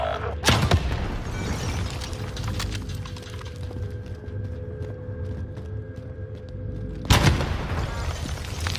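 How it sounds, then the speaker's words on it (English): Two loud, booming rocket launcher explosions in a video game, one near the start and one near the end, with a low rumbling game soundscape and a steady hum between them. "I cannot be stopped with this rocket launcher right now."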